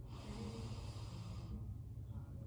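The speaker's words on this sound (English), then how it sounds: "Take a nice deep inhale." A deep breath drawn in during a guided hip and quad stretching session, heard as a long, close, airy inhale that fades out about halfway through, with no talking.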